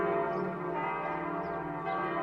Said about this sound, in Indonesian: Lonceng gereja lebih sering berdentang, kematian semakin banyak.